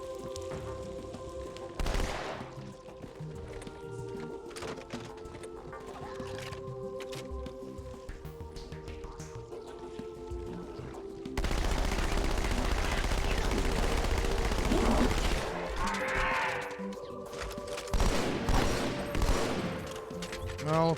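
Gunfire in Halo 2 during a battle with a battle rifle and SMG, rapid bursts of shots under a steady game-music drone, with a louder, denser stretch of firing and explosions midway, all without speech.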